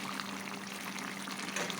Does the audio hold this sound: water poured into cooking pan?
yes